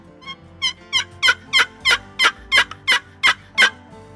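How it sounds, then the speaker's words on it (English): A Primos Revival long box turkey call is played, giving about eleven sharp, raspy yelps in a steady, even rhythm. The yelps are close and clear, with no voices. "The Revival box call from Primos."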